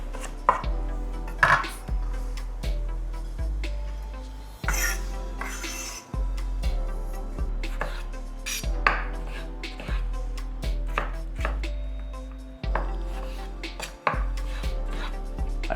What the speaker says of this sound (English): No need to finely chop, just a rough cut, and that's it.